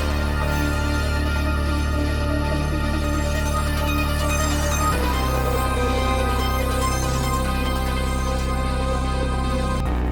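Steady synth track layering arpeggio, sustained pad, bass and a melody with heavy ambience, loud and continuous, shifting to a new bass note about halfway through; no voices.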